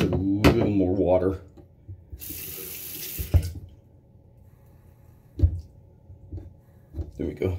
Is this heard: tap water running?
yes